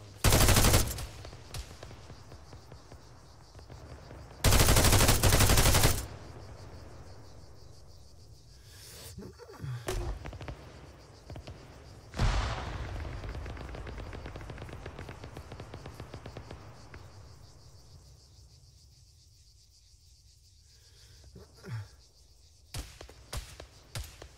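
Bursts of automatic gunfire in an Arma 3 firefight, with loud, sustained volleys near the start and middle and scattered, fainter shots trailing off toward the end.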